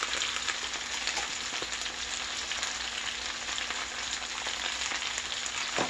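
Vegetables with thyme, pepper and paprika cooking in a pot for corn chowder, a steady, fairly loud frying sizzle with a dense crackle throughout, no talk.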